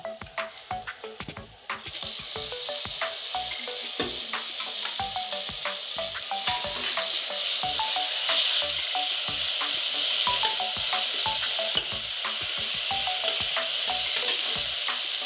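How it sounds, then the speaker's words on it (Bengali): Cumin and garam masala paste sizzling in hot oil for a rohu fish and potato curry, a steady close crackle with frequent sharp pops and spoon scrapes after a brief quieter start. "জিরে আর গরম মশলা বাটা এটা এখন তেলের উপরে দিয়ে দেব"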